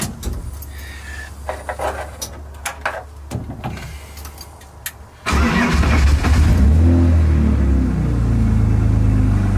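A modified car with a boost engine, fitted with new lower control arms, tie rods and alignment, starts up after some clicks and handling noises, then its engine roars loud and close, revving and building as it pulls away.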